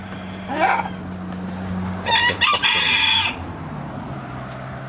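A rooster crows once at middle distance, a drawn-out call over a low steady background hum, with a faint squawk shortly before.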